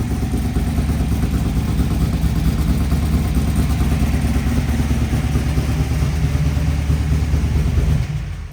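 A 1969 Chevrolet Camaro Z/28 engine running in a garage, a steady, loud, deep rumble with a constant low throb and no talk over it.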